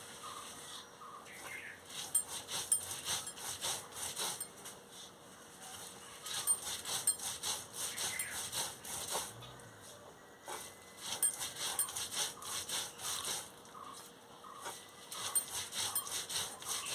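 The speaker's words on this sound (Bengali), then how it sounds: "ভালো করে আমি বেটে নিচ্ছি।" Gima greens being ground into paste on a grinding stone, a steady run of rhythmic rubbing, scraping strokes heard close and fairly quiet, with no talk.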